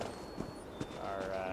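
Horse hooves clip-clop in The Elder Scrolls Online, a few soft, evenly spaced thuds at close range under a faint ambient game background.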